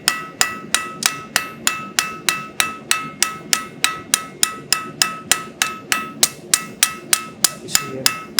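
A blacksmith's hammer taps lightly and steadily on hot metal while forging, about twenty-five crisp ringing strikes in an even rhythm, each with a short metallic decay, close and clear with no talking.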